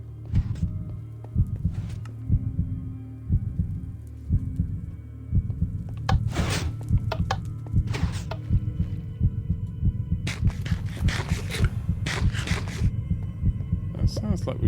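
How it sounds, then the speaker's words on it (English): A heartbeat sound effect in the Minecraft Decked Out 2 dungeon game thumps in a steady low pulse throughout, over a droning hum with scattered game noises and brief bright clatters. "heartbeat's getting up"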